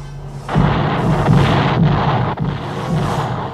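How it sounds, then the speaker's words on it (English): Missiles exploding one after another in a chain reaction in a late-1970s science-fiction television show, a sustained loud barrage of heavy booms and rumbling blasts overlapping with no voices. "We're getting a chain reaction, sir. Missiles destroying each other."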